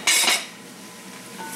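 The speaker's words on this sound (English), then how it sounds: "mix it around" Cutlery scraping and clanking in a stir-fry pan as chicken, meat and onions are stirred, two quick loud metallic strokes up front, then a quieter sizzle trailing off, no voices.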